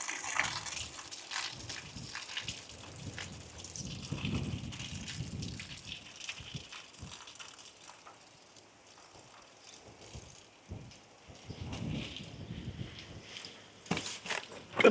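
Water from a garden hose is let out in an uneven gush that splashes and patters near the microphone, rising and falling in surges over about fifteen seconds with occasional knocks.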